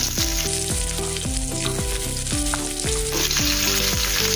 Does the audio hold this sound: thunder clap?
no